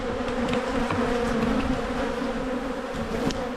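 Honey bees drone in a steady, dense buzz close by while a hive is opened and frames of brood and honey are checked, the hum continuous and unbroken throughout.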